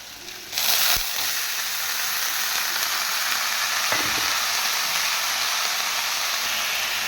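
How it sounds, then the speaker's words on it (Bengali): Boiled, drained banana flower sizzles loudly in a pan with ginger and cumin paste, a steady broadband frying hiss that starts abruptly near the beginning and continues alone throughout, with a couple of brief stirring clinks. "এবার আমি যে মোচাটা সেদ্ধ করেছিলাম সেই মোচাটা জল ঝরিয়ে নিয়ে এর মধ্যে দিয়ে দেবো"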